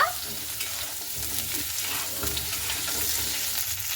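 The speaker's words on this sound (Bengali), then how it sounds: "তো আর এক পিঠ আমি এইভাবে কিন্তু লাল লাল করে ভেজে নেব" Small red potatoes fry in a pan with a steady, dense sizzle and crackle, loud and close, carrying on without a break and with no talking.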